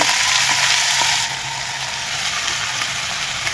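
Dill greens being sautéed in a hot pan produce a loud, close, continuous sizzle that softens slightly after the first second, with faint stirring and no speech.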